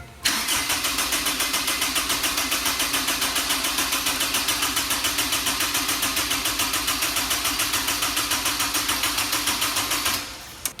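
Honda S2000 engine cranking steadily for about ten seconds without catching, a fast rhythmic starter churn at close range that stops abruptly at the end, with no fuel reaching the injectors.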